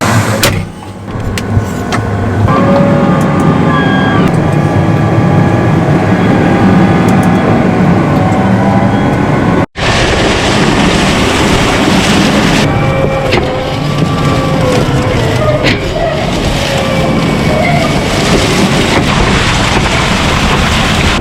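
A tillage tractor roars steadily as it pulls a tiller through a field, a loud continuous engine drone with wind buffeting the microphone and a brief cut partway through.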